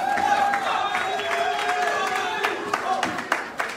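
Young people at a community independence-day celebration in Washington clap and cheer as a crowd, steady applause with scattered shouts, while a voice talks over it.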